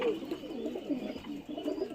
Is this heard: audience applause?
no